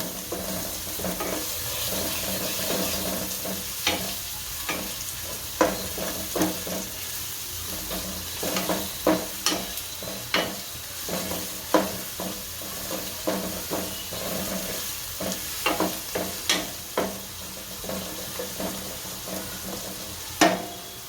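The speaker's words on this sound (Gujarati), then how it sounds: "આ મીઠા લીમડાના પાન છે એ નાખશું, અને આ કાંદા નાખશું, અને હારા તેલમાં સાતળી નાખશું।" Curry leaves and onions sautéing in hot oil in a home kitchen pan for Gujarati papad curry, a steady sizzle broken by repeated sharp stirring scrapes and clicks, close and fairly loud, with no talking.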